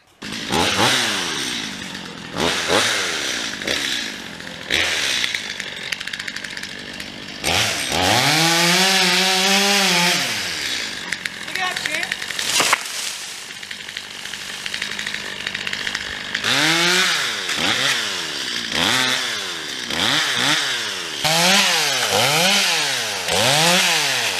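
A chainsaw cuts an elm tree in a back yard, revving and cutting steadily, engine pitch rising and falling through repeated cuts, loud and close, with no talking.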